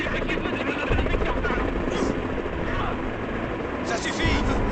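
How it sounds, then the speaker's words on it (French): Helicopter in the video game Final Fantasy VII Rebirth lifting off, a steady loud rotor and engine drone filling the whole clip, with speech over it. "L'hélicoptère vient juste de décoller!"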